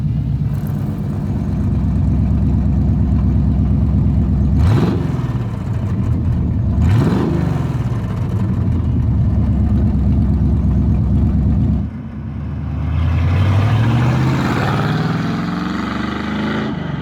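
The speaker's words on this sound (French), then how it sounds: "quand on veut avoir plus de gros sons, là on ouvre les cutouts et c'est parti" Classic American muscle car, such as a Mustang, Firebird, Camaro or GT500, revving hard with its exhaust cutouts open: a loud, steady burbling idle broken by two sharp throttle blips, then a long rising rev near the end.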